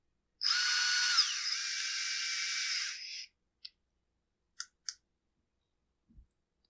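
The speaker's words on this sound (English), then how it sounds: "we don't want to crank these things down with the driver" A power driver whirs in one sustained burst of about three seconds, setting screws into a Husqvarna 460 chainsaw near the carburetor, followed by a few faint clicks and taps in near silence.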